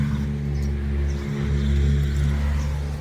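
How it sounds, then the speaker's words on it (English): Cars pass through a small Highland town beside an old drovers' inn, a steady loud low engine and road rumble with no pauses and no voices. "Noisy cars."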